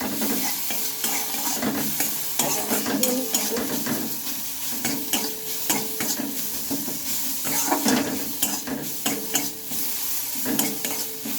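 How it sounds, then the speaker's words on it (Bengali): Taro frying in a pan with cumin powder, turmeric and salt, stirred continuously, giving close, repeated scraping strokes over a constant sizzle, with no talk. "এখন এক চামচ মতো দিয়ে নেবো জিরে গুঁড়ো সাথে দিয়ে নিলাম হলুদ লবণটা এখনই দিয়ে নিলাম পরিমাণ মতো সবগুলোকে আমি ভালোভাবে ভেজে নেব"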